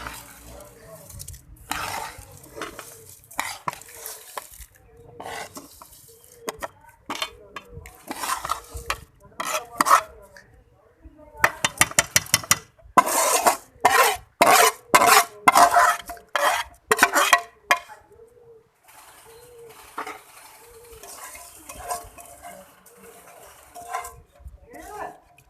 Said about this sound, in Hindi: माशाल्लाह से माशाल्लाह अच्छे से मिक्स करेंगे एक बार इसको।